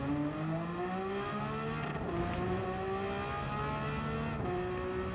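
In a racing video game, a Porsche race car circles Suzuka Circuit, its engine revving hard and climbing through the gears with brief dips at each shift, a continuous strained whine at moderate volume.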